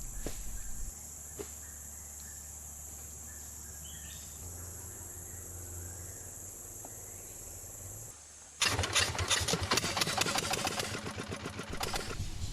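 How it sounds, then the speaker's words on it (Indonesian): A suction machine engine used by Dayak gold miners kicks in abruptly partway through and runs loud and rough to the end, after a quieter stretch of insect and bird sounds. "sebagian warga menjadi pencari emas dengan menggunakan mesin yang biasa mereka sebut sebagai mesin sedot"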